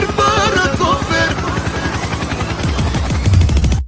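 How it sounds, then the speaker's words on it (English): Helicopter sound effect played as a radio drop, a loud, rapid rhythmic chopping pulse with tonal warbling layered over it, growing heavier toward the end before cutting off. "Helicopter, helicopter."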